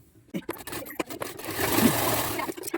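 Sewing machine stitching a blouse, a short burst of whirring and scraping stitch noise that builds in the second half after a few quiet clicks and handling sounds.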